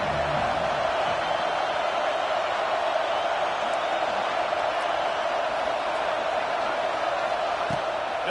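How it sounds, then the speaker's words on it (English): Stadium crowd in Happy Valley roaring on third down in the Madden 25 video game, a constant, dense wash of crowd noise with no breaks. "Here comes the noise from this big crowd in Happy Valley on 3rd down."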